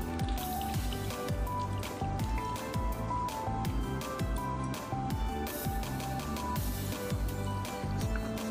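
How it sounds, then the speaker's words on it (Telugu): Tamarind water is poured over fish pieces for Nellore fish curry, making a continuous wet splashing and trickling that stays steady and fairly soft throughout, with faint voices behind it. "ఇలా చింతపండు నీళ్ళని ఇలా పోసుకొని ముక్కలు తేలే వరకు పోసుకోవాలి"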